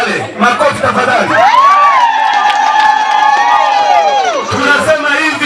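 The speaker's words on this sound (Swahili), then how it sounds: "Makofi tafadhali." A crowd cheers and whoops for a local ward candidate, voices rising into a sustained, loud shout with some applause mixed in.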